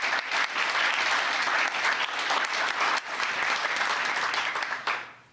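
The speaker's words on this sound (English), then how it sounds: "Give yourselves a round of applause" A large crowd at a pro-life celebration event claps in sustained, dense applause for about five seconds, loud and steady before tapering off at the end.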